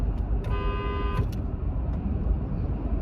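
A single car horn honks for about a second over steady road and engine noise.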